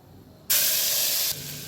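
Ginger garlic paste hits hot ghee in a pan for a vegetable kurma and breaks into a loud, steady sizzle that starts abruptly and then eases slightly near the end.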